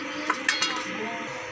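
A cooking pot holding oil and onion is set down on the stove, giving a few quick metallic clinks and knocks close by, then a quiet background.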